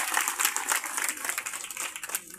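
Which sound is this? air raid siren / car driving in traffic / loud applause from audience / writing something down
loud applause from audience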